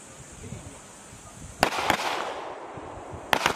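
Sharp gunshots on a close quarters battle range during a Philippine Marines reconnaissance training exercise: a pair of close, loud cracks, then a pause and another quick burst near the end, over low background rumble.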